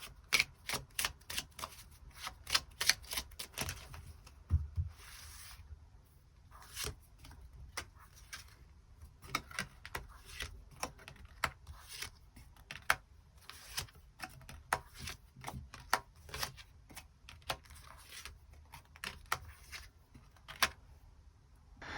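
Tarot cards being shuffled and drawn, soft close papery riffles and snaps repeating irregularly throughout, faint and without talk.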